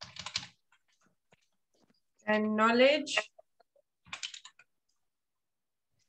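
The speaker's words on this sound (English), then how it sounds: "teacher's typing funny here" Light, scattered computer keyboard typing clicks, faint and sparse, tapping between short bursts of a person speaking nearby.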